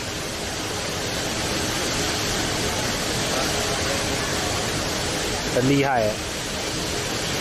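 Steady broadband rush of an indoor artificial waterfall inside a Singapore airport terminal, beside the track of the inter-terminal shuttle train, continuous and fairly loud, with a brief voice speaking over it near the end.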